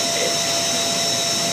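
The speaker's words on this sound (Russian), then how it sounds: "И пузо пропылесосить." A vacuum cleaner runs steadily and loud at close range as its nozzle is drawn over a cat's fur and belly, a constant droning whine with no voices.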